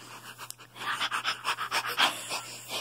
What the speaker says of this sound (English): You pant like a dog.